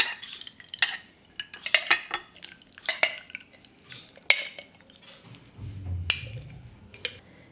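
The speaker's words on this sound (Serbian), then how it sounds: "I sad ćemo sipati pasulj u teglu." Cooked beans are poured into a glass jar with a utensil, giving a series of sharp clinks, scrapes and soft wet knocks at an uneven rhythm, close and fairly quiet.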